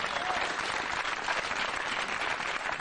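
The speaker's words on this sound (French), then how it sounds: "Acclamons très fort pour la parole du Seigneur." A church congregation applauding loudly, a dense, even wash of many hands clapping together throughout without pause.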